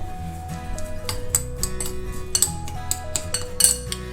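A spoon mixes a tortilla-wrap filling with pepper and salt in a bowl, making repeated close clinks and scrapes against the bowl in an irregular rhythm, with soft background music underneath and no voices.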